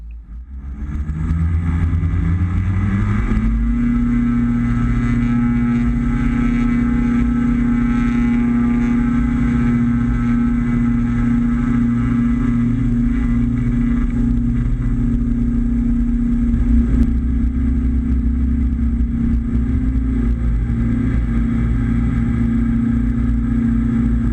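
The twin engines of a Diamond DA42 Twinstar spool up to full takeoff power, a loud steady droning hum that rises quickly in the first seconds and then holds constant, close and with no talk.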